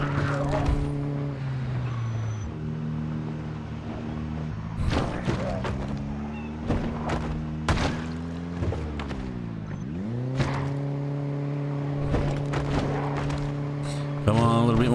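Car driven clumsily in the zombie survival game Project Zomboid, a steady engine hum that rises and falls with revving, with thumps and knocks from collisions and a voice talking over it.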